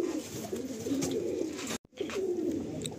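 Giribaz high-flying pigeons coo in a steady, close chorus of low throaty rolling calls, broken by a sudden instant of silence before the cooing resumes.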